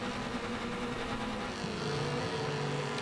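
A Mazda Miata in the Wreckfest racing game hums steadily up close, with a sustained engine drone and rising pitch that fills the whole stretch without any talking.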